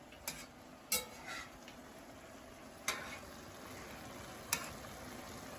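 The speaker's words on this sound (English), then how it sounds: "They're both stirring and frying." Steady sizzling of chicken stir-frying in a pan, broken by a few sharp scraping stirs of a utensil against the metal.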